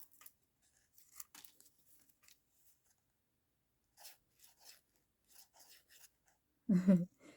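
Scissors snip through paper images in a quiet craft setting making fabric and page tabs, a scattered series of faint, crisp cuts and rustles, ending with a louder thump.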